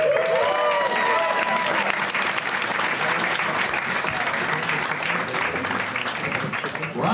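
A comedy club audience gives a comedian a sustained round of applause, dense clapping with a few cheers, loud and continuous for the whole stretch.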